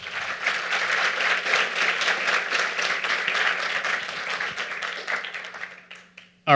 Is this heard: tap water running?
no